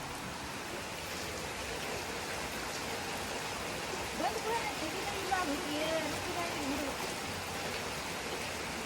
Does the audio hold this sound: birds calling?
no